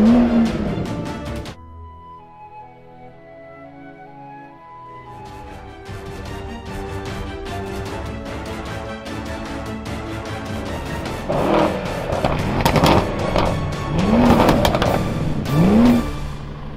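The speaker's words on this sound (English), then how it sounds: "Let's have a drag race." Four performance cars, a Mercedes-AMG E63 S estate, Audi RS6 Performance, BMW M760Li and Tesla Model S P100D, launch in a drag race, engines roaring and revving up through gear changes from a quiet start, growing louder with rising pitch sweeps.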